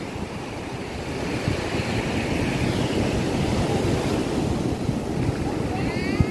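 Ocean surf rolling onto Praia do Quilombo beach, a continuous loud wash of breaking waves mixed with gusty wind buffeting the microphone, with no talk.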